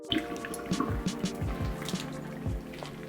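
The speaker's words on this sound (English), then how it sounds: "I'm gonna turn off the heat and drain them right away" Hot water draining off freshly boiled potatoes, a series of irregular drips and small splashes trickling down, quiet and close, with a faint liquid gurgle and no speech.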